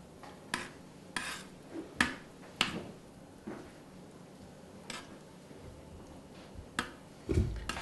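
Utensil clinks and taps against a pan while sesame seeds are stirred into syrup for toffee apples, scattered sharp knocks at an irregular pace over a quiet background.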